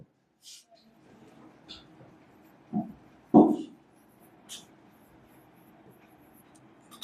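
Chalk or a marker scratches across a classroom board in short strokes, with a few sharper taps and faint squeaks among the low background noise.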